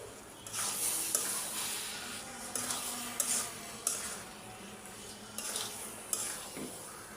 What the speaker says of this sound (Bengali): এটা নাড়া দিয়া একটু শুকনা শুকনা করে রাখ